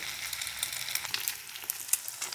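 Thai-style omelette frying in hot oil over high heat, a dense continuous crackling sizzle with bright pops, close and steady with no voices.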